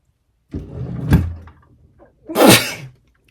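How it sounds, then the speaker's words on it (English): Two sharp sneezes burst out close by during a makeup routine, the first around the one-second mark and a louder, breathier second one near the end, each with a short intake before it. "Sneeze into your brush"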